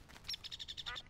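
Ducks from the Mo Creatures mod in Minecraft quack in a quick rapid series of short nasal calls, fairly faint and brief, with no talk over them.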